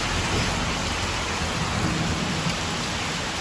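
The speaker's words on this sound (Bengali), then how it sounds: "মুষলধারে বৃষ্টি হচ্ছে।" Heavy rain pours down in a steady, dense roar with no pauses, close and loud throughout.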